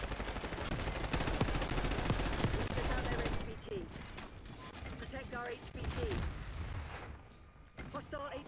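Automatic gunfire in Call of Duty Black Ops 6, a loud sustained burst of rapid shots that drops to scattered firing and game effects, with voices talking over the later part.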